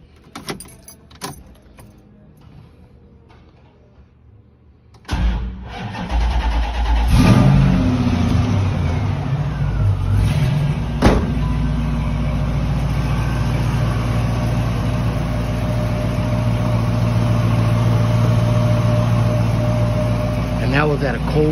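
A 1968 Plymouth Barracuda is cold-started after keys rattle faintly, the engine catching with a loud burst then settling into a steady, rumbling idle that carries on close by.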